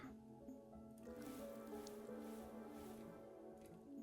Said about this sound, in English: We are going to water this chickweed.